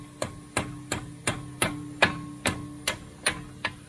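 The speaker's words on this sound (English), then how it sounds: "I might need a hammer to tap that one in." A hammer taps a tight-fitting part into a slot during assembly of a lift kit on a VW golf cart, about ten sharp metallic strikes in a steady even rhythm, close and clear with nothing else over them.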